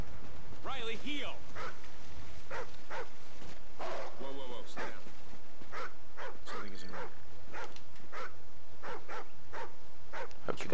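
A dog in the video game Call of Duty: Ghosts barks and yips in short repeated bursts, mixed with game voices and a player talking over it.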